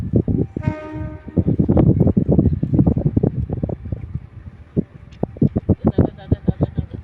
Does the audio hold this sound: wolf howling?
no